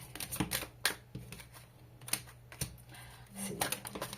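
Tarot cards handled and shuffled by hand in a quiet room, giving soft papery riffles and slaps in short irregular bursts with no talk over them.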